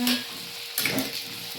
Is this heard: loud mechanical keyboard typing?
no